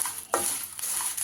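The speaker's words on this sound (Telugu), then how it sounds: "కరివేపాకు కూడా ఇట్లా వేసేసుకోవాలి" Curry leaves are stirred into hot oil in a pan while frying coconut curry leaf powder, giving a brief sizzle with a sharp burst of scraping and crackle partway through, close and fairly quiet.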